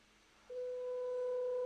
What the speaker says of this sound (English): Foghorn.